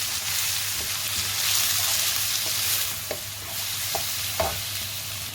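Peppers and onions sizzle steadily in a hot pan with turmeric, a constant close frying hiss broken by a few sharp stirring clicks and scrapes near the end.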